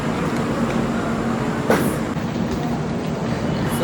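A Duronto Express train, the Kochi to Mumbai 12283 service, standing at a station: a loud, continuous rumble and hum of the train with a brief squeal partway through, no clear talk.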